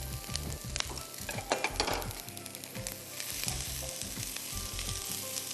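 Sliced onion and capsicum sauté in a little oil for a peanut soup, crackling loudly and close, with rhythmic scraping and stirring against the pan and no speech.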